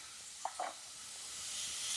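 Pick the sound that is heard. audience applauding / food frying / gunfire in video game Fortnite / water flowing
food frying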